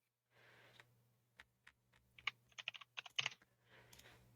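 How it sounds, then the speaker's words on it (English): Quiet keyboard typing from a streamer during a Marbles on Stream match, a run of soft keypresses that thickens into a quick cluster of clicks midway, with a steady low hum underneath. "we can get keyboard ASMR here because we can hear Boko's keyboard"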